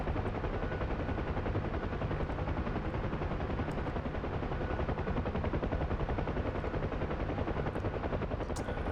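Steady helicopter rotor and engine roar inside a UH-1 Huey in the DCS flight sim, with continuous rapid machine-gun fire blended into the drone throughout, no voices.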